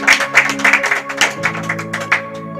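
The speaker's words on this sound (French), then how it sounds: "Applaudissez le Seigneur" A congregation at a Bible college graduation claps in a rhythmic, fairly close burst over music with sustained tones.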